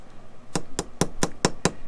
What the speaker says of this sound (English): I'm using a jeweler's hammer